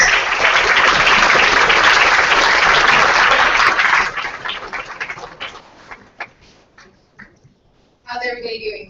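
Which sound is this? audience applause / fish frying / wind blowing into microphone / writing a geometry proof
audience applause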